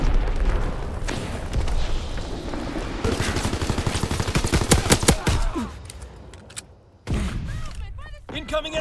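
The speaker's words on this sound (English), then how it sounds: "Incoming enemy artillery." Incoming enemy artillery in the World War II shooter Call of Duty: WW2 multiplayer, with dense bursts of gunfire and heavy booming impacts that rattle rapidly, then fade before another blast.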